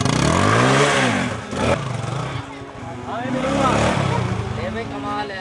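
A motorcycle engine revving up and down close by, mixed with excited voices talking over it.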